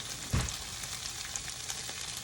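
Shallots browning in a pan alongside gnocchi, a steady, close hiss of frying with one soft thump from a utensil near the start.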